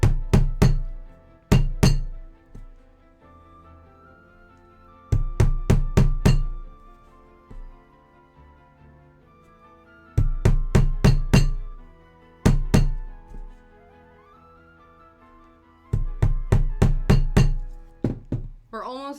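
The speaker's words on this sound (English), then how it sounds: "We're hammering the dots in." Hammer blows drive nails into a board through a paper pattern for string art, in quick clusters of three to five sharp knocks separated by pauses, loud and close, with ringing metallic overtones.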